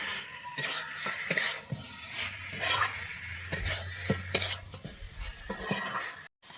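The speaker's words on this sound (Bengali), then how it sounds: "এরপরে আমি দিয়ে দিচ্ছি চিকেন ভেজে রাখা চিকেনগুলো দিয়ে দিচ্ছি দিয়ে আমি এবারে এটাকে আরেকটুক্ষণ কষিয়ে নেব" A spatula scrapes and clanks in a pan as fried chicken pieces are stirred through a spicy gravy for a Bengali chicken curry, with close, irregular strokes and a soft sizzle underneath.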